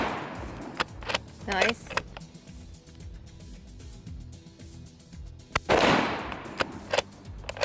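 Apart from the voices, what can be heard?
gunshots from Mossberg MVP LR rifle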